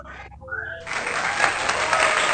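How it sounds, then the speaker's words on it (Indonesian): Audience applause for Pak Hari at an evening talk event, a dense burst of clapping that swells in after a brief pause and stays loud and steady to the end. "Tepuk tangan untuk Pak Hari."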